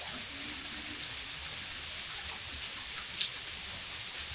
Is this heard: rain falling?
yes